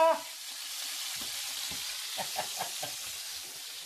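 Sliced onions sizzle in a big hot saucepan with a broad, constant hiss, while faint stirring taps and scrapes come through intermittently.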